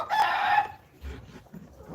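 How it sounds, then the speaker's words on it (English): A chicken gives a loud, short squawk up close, followed by a couple of quieter clucks in a fairly still setting. "The chickens, man."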